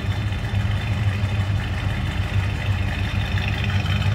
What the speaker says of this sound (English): this truck's got a nice sound to it. And it is newer exhaust